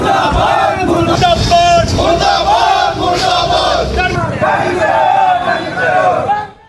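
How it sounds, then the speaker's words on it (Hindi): A crowd of Congress party workers chants slogans in unison at a torch-lit street rally. The rhythmic voices are loud, dense and near, rising and falling in repeated shouted phrases throughout. "कांग्रेस ने मशाल रैली निकाली है, मशाल जुलूस निकाला है। कांग्रेस कार्यकर्ता सड़कों पर उतरे।"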